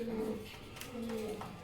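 Domestic pigeons kept for sale give two short, low cooing phrases close by, separated by a brief pause, over faint background noise.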